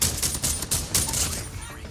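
Rapid shots from a Type 63 tactical rifle in the Call of Duty Mobile video game, a quick burst of several sharp cracks over about two seconds, with a faint voice beneath.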